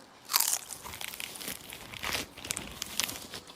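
Freshly baked bread being bitten into and chewed up close, with several crisp crunching and crackling bursts spread irregularly across the moment.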